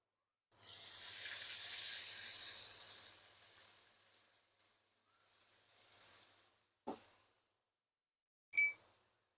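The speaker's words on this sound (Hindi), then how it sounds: "एक बड़ा प्याज मैंने चॉप किया है, इसको फ्राई करेंगे।" Chopped onion frying in a pan for a shimla mirch aloo dish, a loud sizzling hiss that fades over several seconds, followed by two sharp clatters of utensil against pan.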